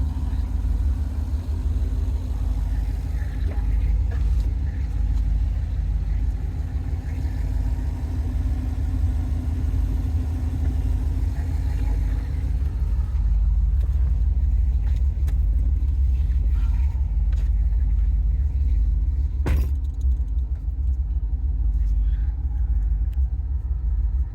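A supercharged 2007 Corvette coupe with an Edelbrock E-Force supercharger, rated 599 hp, idles close by, its steady deep rumble holding through the whole stretch with only small shifts in tone.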